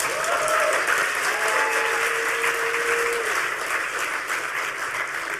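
A crowd at the Next HOPE hacker conference breaks into steady, full applause for a talk about building an electronic badge, with a couple of brief whistles rising over the continuous clapping.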